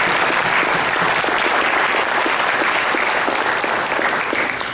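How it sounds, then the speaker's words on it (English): A program audience claps in a big round of applause, loud and sustained with dense overlapping claps and no speech, lasting the whole stretch. "how about a big round of applause?"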